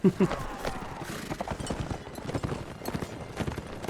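Horse hooves clip-clopping in a cavalry fight in the Mount & Blade Warband video game, a fast steady patter with battle clatter mixed in and a short neigh-like call at the start.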